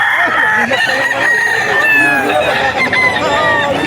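A Black Spartan straight-comb gamecock crows loudly and close, a long harmonic call with clucking fowl and other birds around it in a rural yard.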